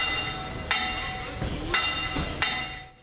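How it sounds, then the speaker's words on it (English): The bell of the Syriac Orthodox Church of Mor Ephraim in Turkey rings to welcome Pope Leo XIV, with four clear metallic strikes at uneven intervals, each ringing out and fading over a low background. "The bell rings for the arrival of the Pope"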